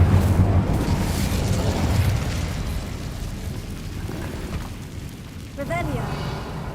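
The Incendio fire spell in Hogwarts Legacy erupts with a loud, rumbling burst of flame that roars and slowly decays over several seconds, followed by a second fiery whoosh near the end.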